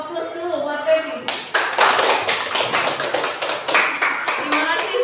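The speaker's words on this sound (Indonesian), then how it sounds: "kita kasih aplaus dulu buat Peggy" A class of students applauds a classmate, a burst of many hands clapping unevenly, loud and close, that builds after a quieter opening with a voice speaking.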